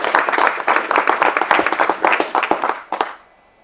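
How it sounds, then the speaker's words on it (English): A small audience at a business event applauds, brisk distinct hand claps in a fairly close, quick irregular rhythm that thins out and stops after about three seconds. "can you kindly give them a round of applause?"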